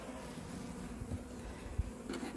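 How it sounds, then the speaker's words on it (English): Honeybees buzzing around the hives at an apiary near a large wood, a faint continuous hum with a few closer passes and some low outdoor rumble, no talking. "Beautiful bees. nice bees."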